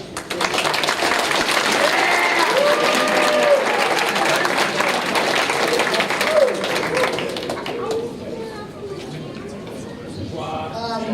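A crowd applauds at a high school wrestling banquet, steady loud clapping that fades after several seconds into room chatter, with someone speaking over it.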